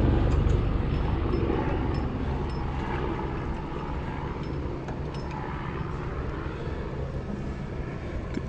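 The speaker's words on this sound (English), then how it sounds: "We're gonna put tension on the blade, spin it around, see how it's tracking on our band wheels." A portable sawmill running with its band blade spinning under tension, producing a steady, loud, broadband mechanical drone that eases slightly in the first seconds and then holds even throughout.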